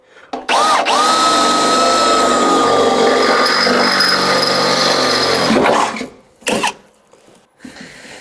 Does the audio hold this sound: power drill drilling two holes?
yes